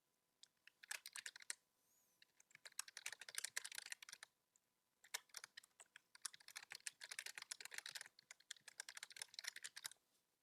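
Rapid bursts of computer keyboard typing as a chat message is written, clicky keystrokes in quick runs with a short pause near the middle, close and clear with no talking.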